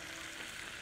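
Mastic sizzles as it hits hot oil in a pan, a short, faint, steady crackle.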